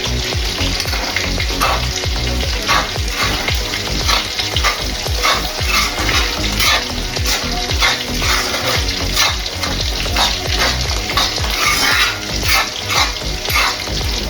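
Dried red chillies, curry leaves and green chillies sizzle steadily in hot oil for a fish pickle, with frequent close stirring scrapes and clinks and no talking.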